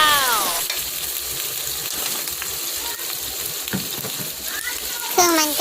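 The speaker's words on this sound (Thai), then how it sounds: "หอมกับพริกเริ่มสุกแล้ว เราก็ใส่เครื่องมาล่าลงไปผัดด้วยกันนะคะ" Shallots and dried chilies stir-fry with mala paste in a home pan, a steady close sizzle with occasional clinks of the spatula against the pan, running throughout under light background noise.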